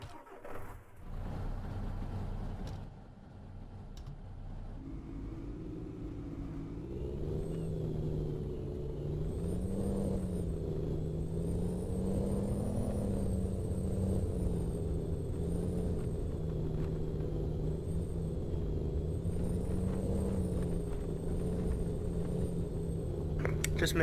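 A car engine in the ArmA 3 video game, driven around an enclosed yard, gives a steady low rumble that shifts in pitch as it speeds up and slows. It starts quietly after a brief pause and then holds a constant drone with no talking.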